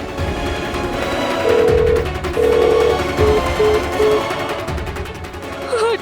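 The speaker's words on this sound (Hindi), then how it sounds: "अर्जुन का फोन नहीं लग रहा" A phone call ringing without connecting, several short electronic ring tones in a row over a noisy background with a voice talking.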